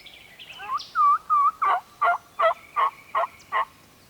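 Wild turkey gobblers call out in the Mississippi woods. Several loud gobbles roll out in a rapid, evenly spaced series, close and clear with no talk over them.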